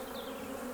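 Honey bees buzz in a steady, dense drone from an opened hive during a colony inspection, the queen excluder being gently pried off; the hum is close and continuous, with no voices.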